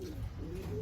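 Low, soft cooing of racing pigeons in a breeding box loft, a steady murmuring hum that runs continuously through the moment without pause.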